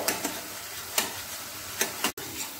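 Masala being stirred in a pan with a cashew-poppy seed paste as it fries, soft sizzling under a few sharp scraping taps of the spoon at irregular intervals, close by and fairly quiet.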